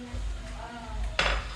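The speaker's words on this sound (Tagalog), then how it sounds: "i-mix tayo ni onion at saka garlic" Onion and garlic being mixed into chicken in a bowl for native chicken adobo, with soft scraping and a sharp clink of utensil against dish near the end, close and fairly quiet.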